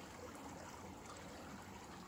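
A creek runs beside a hiking trail, its flowing water making a faint, even trickling hiss that holds steady throughout.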